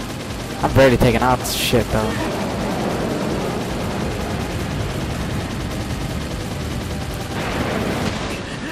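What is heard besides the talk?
rapid machine-gun-like weapon fire in video game Warriors Orochi 3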